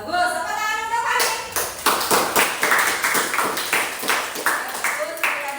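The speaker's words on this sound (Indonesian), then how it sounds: "Tepuk tangan untuk Fahri" Students in a vocational school classroom clap for a classmate, a loose run of sharp separate hand claps close by, mixed with voices and bright tapping.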